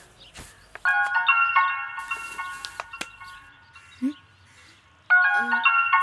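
A mobile phone ringtone plays a bright melodic jingle in two bursts, starting near and loud, with a short pause between; brief voice sounds and rustling sit in the gap.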